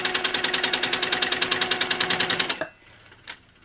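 A sewing machine with a quarter-inch foot runs at a fast, steady, rapid-fire chatter of stitches for about two and a half seconds, then stops. One faint click follows in the quiet.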